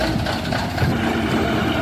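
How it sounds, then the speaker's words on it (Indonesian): A truck engine drones steadily at low pitch while towing another truck by cable up a busy hill, loud and close with a dense rumble. "Ini truk Pusonya yang narik ya."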